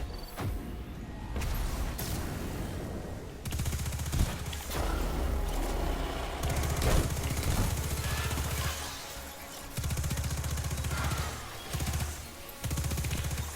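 Rapid gunfire from Mountaintop, Recluse and Anarchy weapons in Destiny 2 rattles in dense, loud bursts and continuous volleys with heavy booming impacts, broken by short pauses.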